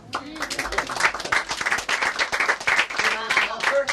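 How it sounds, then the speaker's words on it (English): Close, lively clapping from a small audience at a magic show in an intimate theater, with individual claps distinct and uneven, and a voice talking over it. "Big round of applause, please"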